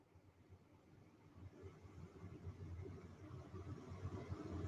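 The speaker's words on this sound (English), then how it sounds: "With the sound of the heater in my car going" A car heater blows steadily inside a parked car on a freezing morning while the windows defrost, giving a faint, even rushing airflow with a low engine rumble beneath it that swells slightly over time.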